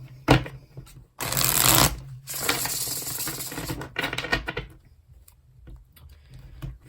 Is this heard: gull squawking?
no